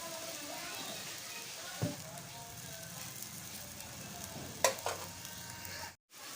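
Salted leafy greens fry in a pan while their released water cooks off, giving a faint, steady hiss with a couple of brief clatters of stirring.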